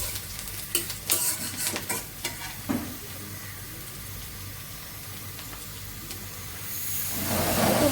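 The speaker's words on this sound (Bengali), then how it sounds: "মাছ ভুনার জন্য পেঁয়াজ দিয়ে দিচ্ছি" Onions fry in oil for a fish curry while a utensil stirs and scrapes the pan, giving uneven clattering strokes over a constant sizzle that grows louder toward the end.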